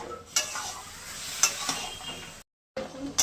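Hilsa fish head simmers with taro greens, turmeric and jaggery in a pot, sizzling softly while a spoon stirs with a few scraping strokes and light clinks; the sound drops out briefly.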